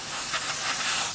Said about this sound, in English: next we'll clean everything up with some brake clean and these blue shop towels